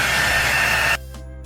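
A hair dryer blowing on a glitter-coated vase to dry a glue layer, a loud close steady whoosh that cuts off abruptly about one second in, leaving faint quiet room sound.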